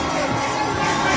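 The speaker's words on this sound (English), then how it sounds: "Can we clap for the Vice President?" Crowd at a political rally roaring and cheering, a loud continuous swell of many voices with shouts blended in, brief and dense throughout.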